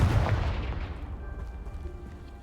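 A Confringo blast spell in Hogwarts Legacy goes off as a loud, close explosive boom that rolls away into a long, fading rumble.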